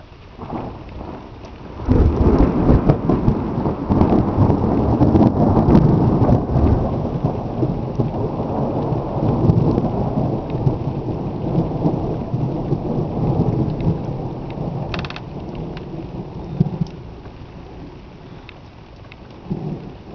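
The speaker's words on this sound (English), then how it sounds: "that big thunder. You can feel it shake through the rock" Heavy evening thunderstorm over a cap rock, with loud rolling thunder rumbling close and shaking for many seconds above steady pouring rain, then fading toward lighter rainfall.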